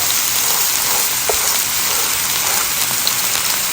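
Patties of Italian sausage and ground beef sear on a hot griddle, giving a steady, loud, dense sizzle like heavy rain with faint crackles and no talk.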